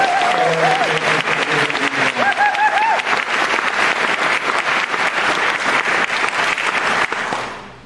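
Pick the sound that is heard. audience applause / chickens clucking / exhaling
audience applause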